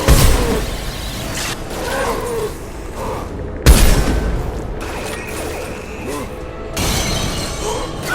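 Gunfire in the sci-fi shooter Mass Effect 2, aboard the Collector ship: dense, loud bursts of weapon fire and impacts crash in overlapping volleys, mixed with voices and battle noise throughout.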